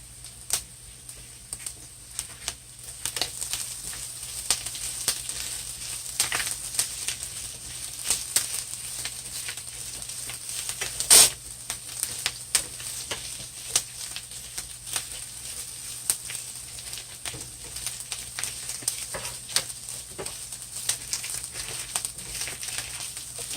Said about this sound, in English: And I'm just allowing this to cook on medium fire, medium heat.